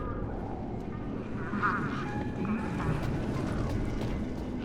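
Birds quacking and honking near a truck at city walls in the game Beyond a Steel Sky; scattered calls ring out over a steady ambient bed, moderately quiet, with a voice talking alongside.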